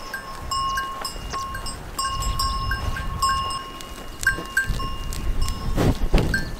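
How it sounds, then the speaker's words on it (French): Animal bells clank and jingle irregularly nearby in Greece, with shuffling and rustling of goats getting louder toward the end. "Et là, on rencontre des chèvres."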